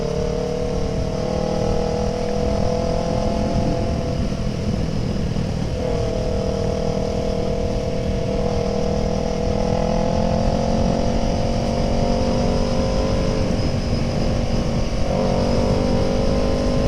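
A Kawasaki ER6N motorcycle being ridden, its loud, continuous exhaust drone rising and falling steadily, close and alone for the whole stretch with no voices.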